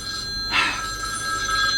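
A telephone rings in a Hindi action film scene, its steady electronic bell tones sounding continuously through the moment, with a brief louder burst partway through and no talk.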